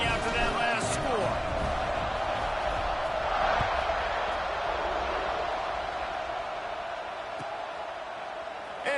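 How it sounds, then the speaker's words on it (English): A stadium crowd in a college football video game keeps up a steady, thick murmur of cheering after a score, with a commentator's voice running over it. "this crowd is buzzing after that last score"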